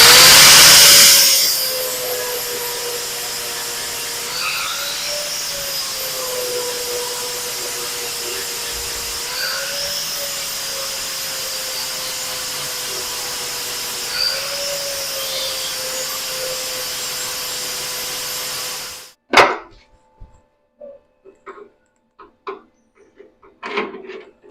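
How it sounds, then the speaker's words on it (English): An angle grinder steadily grinds down metal on a 1964 Ford Fairlane tubular front suspension, a loud continuous whine with slight pitch dips, stopping abruptly near the end and followed by a few clanks. "just kind of hold this in place and grind it down."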